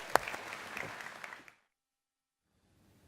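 Audience applause at a health innovation symposium gives a short, fairly faint burst of clapping that fades out after about a second and a half, leaving near silence.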